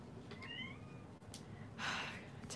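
A cat meows softly indoors, a faint drawn-out call followed by a louder breathy cry, with quiet room noise around it.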